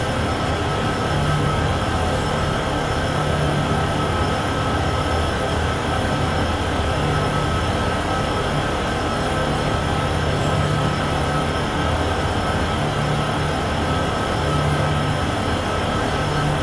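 Freight train rolling in Train Sim World 6 on a Union Pacific or BNSF mainline, a steady loud rumble of wheels and wagons with a sustained low hum running throughout, no talking.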